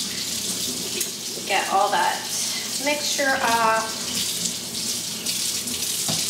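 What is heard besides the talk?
tap water running while rinsing makeup brushes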